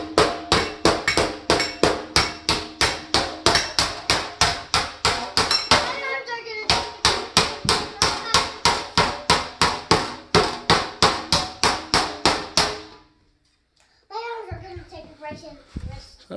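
A hammer beats an aluminum sheet into an armor back plate in steady, rapid blows, clanging with a ringing metallic edge. The strikes carry on for about twelve seconds, stop, and are followed by faint voices.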